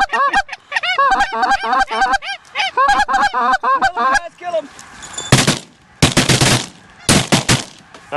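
Shotgun blasts during a Texas goose hunt: after a stretch of loud goose honking, three heavy, close bursts of shots ring out at intervals, with geese still calling between them.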